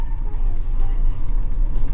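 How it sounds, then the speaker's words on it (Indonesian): A new car pulls at full throttle with a loud, steady low engine roar and road rumble that hold strongly through the whole short stretch. "Okay, we will accelerate maximum acceleration"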